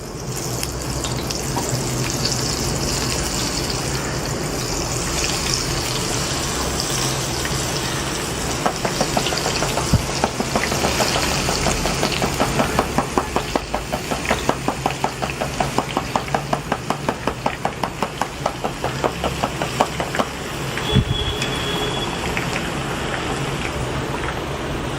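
Boondi batter for motichur laddu frying in hot oil, a loud, steady bubbling sizzle heard close, with a faster rhythmic pattering swelling in the middle stretch, no speech.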